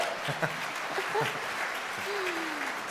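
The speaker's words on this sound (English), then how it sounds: "A little bit, and you can applaud that." A synod assembly audience gives brief, soft applause, a diffuse patter of clapping in a large room mixed with scattered murmurs and a short laugh.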